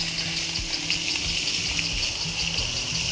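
Water splashes and gushes steadily while coconut palms are watered at a beach resort in Malvan, Konkan, a continuous close wash with no voices.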